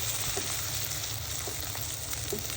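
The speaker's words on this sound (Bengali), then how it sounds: "আমার গরুর মাংস পেঁয়াজ দিয়ে ভাজা কমপ্লিট" Steady frying sizzle of beef frying with onions fills the clip, a dense hiss with faint crackles, close and continuous with no voices.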